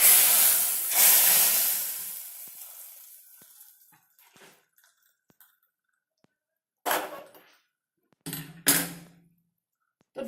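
Tempering (tadka) of hot oil and spices poured over cooked arhar dal, a loud hissing sizzle at first that fades over a few seconds, followed by brief clatters of utensils.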